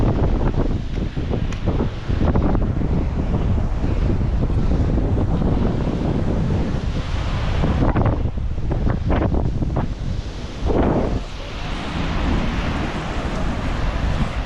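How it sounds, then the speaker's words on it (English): Strong wind at Patacona beach in Valencia on the Mediterranean Sea buffets the microphone in a loud, continuous roar, with surf washing in underneath and no voices. "I hope you can hear me despite the wind that is blowing"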